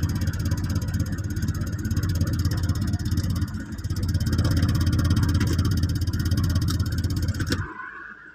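A steady, loud Ford Ranger engine drone with a whirring drive belt and alternator whine and faint clatter, running continuously before cutting off near the end.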